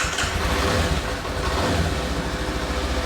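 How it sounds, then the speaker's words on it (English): A motorcycle engine fitted with heated grips runs close by, a dense, rough mid-range rumble that holds steady and slightly surges over a few seconds, with no talking. "Ignition on, we'll start the bike up."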